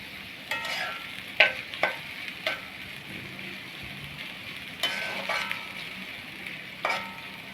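Onions softening in a pan for a small-fish chorchori, with a low, steady sizzle broken by a few sharp clinks and scrapes of a spoon stirring, close and alone without talk.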